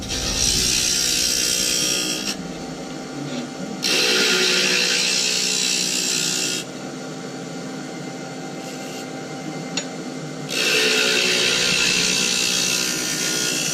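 Woodturning lathe cutting a recess into a wooden blank at a club demonstration, loud whirring and hissing tool cuts in long bursts separated by quieter stretches of the humming lathe running alone.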